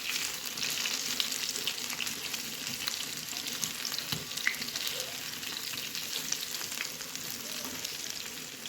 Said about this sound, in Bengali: এভাবে সবকটি বড়াকে ভালোভাবে ভেজে নিতে হবে।